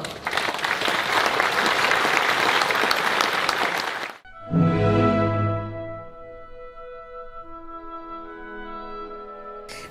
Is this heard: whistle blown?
no